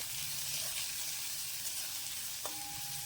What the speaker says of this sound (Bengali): এবারে নেড়ে চেড়ে এগুলোকে একটু ভেজে নেব